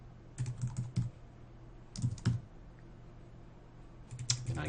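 Someone types on a computer keyboard in short bursts of quick clicking keystrokes, three clusters separated by quiet pauses, close and fairly soft, with no talking.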